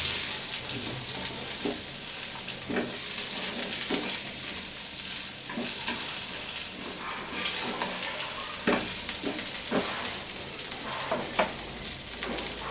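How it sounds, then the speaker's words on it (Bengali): Spices fry in hot oil in a pan for Kashmiri aloo dum, a steady close sizzle with scattered scrapes and taps of stirring throughout, no voices. "এই এক দেড় মিনিট ভাজতে হবে এটা"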